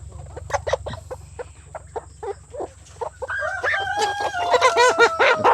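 Chickens cluck in short bursts over a low steady hum, then several birds join in louder, overlapping squawks and calls.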